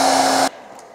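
Philips Prestige hair dryer blowing at steady full power with a constant whine, then cutting off abruptly halfway, leaving near silence.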